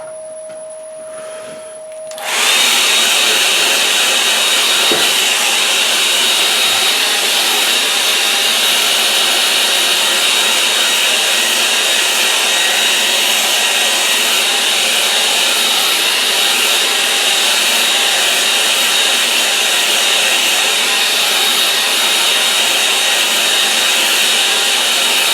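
A hair dryer blows over a watercolour painting of a snowy Essex field, switching on after a quiet start and then running as a steady, loud, close whoosh with an even whine that lasts throughout.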